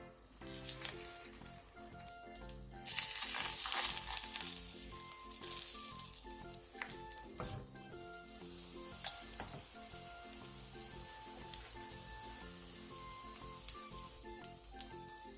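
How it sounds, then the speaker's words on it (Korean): Mushrooms sizzle and fry in oil in a pan over low heat, a steady close crackle throughout with a louder burst of spitting early on, occasional light clinks of a utensil, and no talking. "팬에 기름을 두르고 버섯을 올려 약불에서 부쳐주세요."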